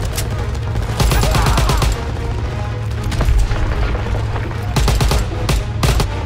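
Call of Duty WW2 gunfire in a World War II battle: dense bursts of automatic fire and booming shots crackle continuously, with heavier blasts around the middle and near the end.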